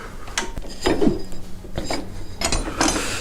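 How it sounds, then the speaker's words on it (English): Belt tensioner pulled back by hand underneath a John Deere GT/GX 255 lawn mower, a close series of metallic clicks, scrapes and rattles spread over a few seconds, with no talk. "pull this tensioner back underneath here"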